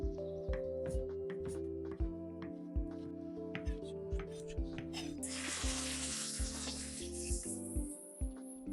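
Onions fry in a kazan with a soft, steady sizzle under clinking and stirring sounds, and the hiss swells loudly partway through as more goes into the hot pot.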